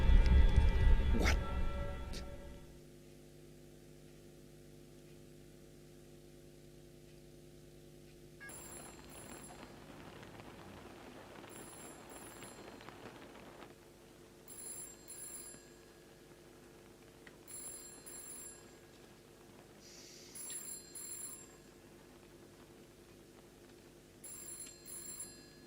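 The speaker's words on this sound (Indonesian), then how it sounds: "Telepon." In a horror video game, a telephone rings in repeated short bright bursts that recur at intervals over low droning ambience. A loud, dense noise opens the passage, and there is no clear talk.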